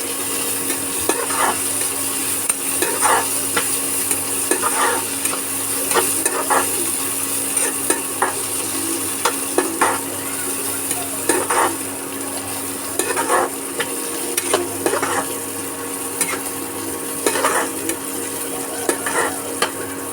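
Cashews and raisins fry in hot oil in a pan for Bengali-style fried rice, with a constant close sizzle and a spatula scraping and stirring at irregular intervals throughout.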